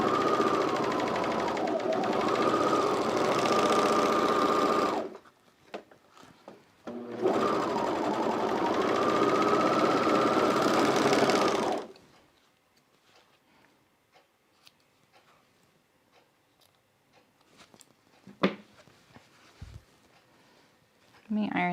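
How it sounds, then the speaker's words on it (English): An overlocker serges a fabric edge in two loud, fast whirring bursts separated by a short pause, followed by quieter handling clicks and taps. "I'm gonna just overlock this edge here."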